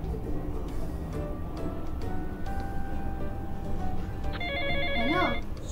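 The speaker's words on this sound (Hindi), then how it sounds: "सोनू को फोन करता हूँ" Phone call ringback tone heard while calling a friend, a short repeating electronic ring that appears near the end over a steady background of room noise.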